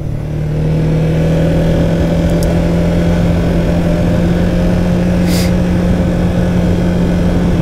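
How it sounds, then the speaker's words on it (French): A Can-Am Outlander 700 quad's engine drones loud and close, a steady, strong roar with a constant hum that holds through the whole stretch without talk. "ça accélère même en 2 roues motrices, hein, ça accélère en ligne, ça part fort."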